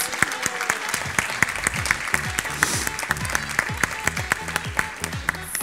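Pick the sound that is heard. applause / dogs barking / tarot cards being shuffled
applause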